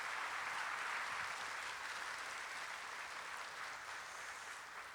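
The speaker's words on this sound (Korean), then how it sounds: "박수 감사 표하겠습니다." Steady applause from a church congregation at the close of a Sunday worship service, a continuous even wash of clapping that holds at the same level throughout with no speech over it.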